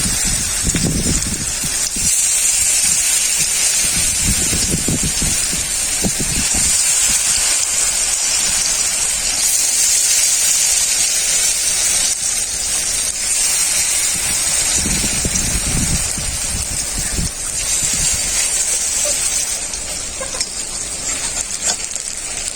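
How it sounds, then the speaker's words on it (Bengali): Chana dal and kulekhara fritters fry in very hot oil, four at a time, with a loud continuous hiss and crackle that never lets up. "ছোলার ডাল আর কুলেখাড়ার বড়া ভেজে নেব।"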